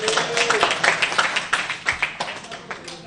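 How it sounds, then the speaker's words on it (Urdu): Dense applause fills a legislative house after a unanimous resolution, many hands clapping steadily and loudly for about three seconds, with a voice briefly audible beneath the clapping. "تالیاں"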